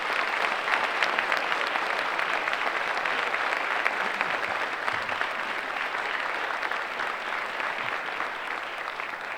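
Sustained applause from a lecture audience welcoming a university president to the Louise McBee Lecture in Higher Education, dense and even clapping throughout, with no voices.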